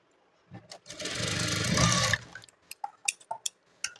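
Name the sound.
sewing machine stitching a blouse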